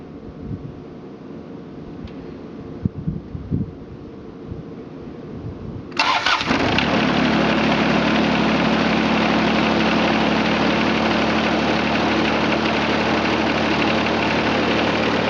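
A John Deere 455 lawn tractor with about 2,231 hours sits quietly with faint handling noises, then its engine cranks, catches and settles into a loud, steady idle that runs close by for the rest of the clip.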